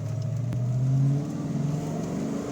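A 1994 Ford Mustang Cobra V8 pulls hard under full-throttle acceleration, its droning pitch climbing steadily, then easing after a brief shift, heard close with no talking.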